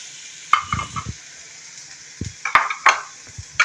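Vegetables for samosa filling sizzle in a hot pan while a spoon stirs them, giving several sharp scraping clacks in bursts over a steady soft frying hiss, close and alone without talk.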